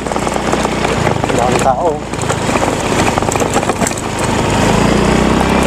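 Motorcycle engine steadily droning while climbing a mountain road, loud and continuous close to the rider, with someone talking over it throughout.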